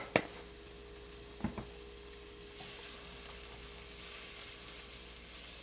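Chicken sautéing in a home kitchen pan while soup is being made: a faint, steady sizzle with a couple of clanking stirs near the start.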